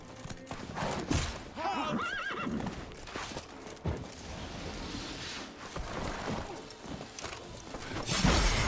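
Roach the horse from The Witcher 3 whinnies loudly up close, with hoofbeats clip-clopping beneath, amid game sounds and voices speaking.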